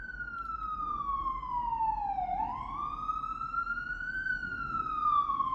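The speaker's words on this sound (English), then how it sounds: "another ambulance." An ambulance siren passing outside wails as a steady tone that sweeps down and back up, heard continuously and fairly clearly through the whole stretch with no talking over it.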